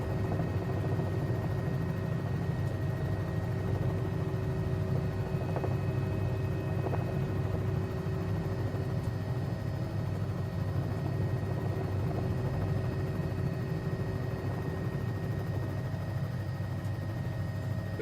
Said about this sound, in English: Helicopter coming down, nose going up.